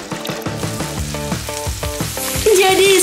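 A chocolate slime mixture sizzles in a frying pan on a stove, a close, continuous crackling fry with rhythmic stirring strokes and a brighter hiss near the end.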